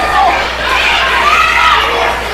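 A packed indoor crowd at a Cornelia wrestling cage match roars and shouts without a break, a dense, loud wall of cheering voices that blurs together.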